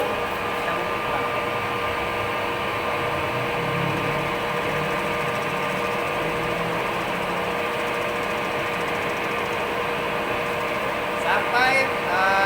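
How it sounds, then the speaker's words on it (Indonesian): A metal lathe runs slowly, turning a steel workpiece. It gives a steady mechanical hum and whine with faint tonal overtones. A brief higher scrape comes near the end, and no one speaks. "Kita bubut pelan."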